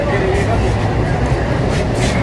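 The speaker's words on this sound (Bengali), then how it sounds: "এখন ছেড়ে দিয়েছে আমাদের মেট্রো।" A Kolkata metro train pulls away from the platform with a steady, close rolling rumble and faint hiss, voices murmuring in the carriage throughout.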